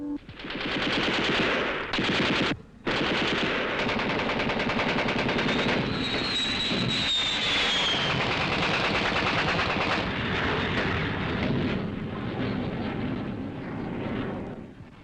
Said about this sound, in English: The main defense against these air raids was rifle and machine gun fire